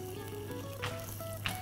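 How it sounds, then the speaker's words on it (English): Food sizzling while cooking over a live fire, a steady low crackling hiss with a couple of brief sharper pops standing out, heard close and continuous without any talking. "I can hear it sizzling"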